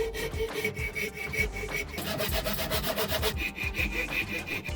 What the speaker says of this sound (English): Then it was time for more sawing.